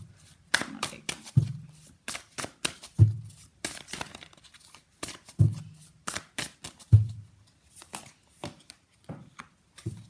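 Tarot cards are shuffled by hand in repeated quick riffles and slaps, close and crisp, separated by short pauses.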